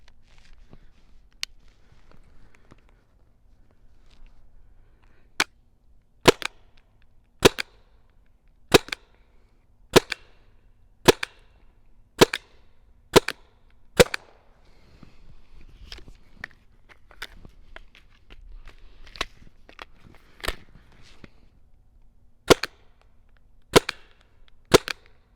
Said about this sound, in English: let's do a few rounds at the pumpkin with the TCR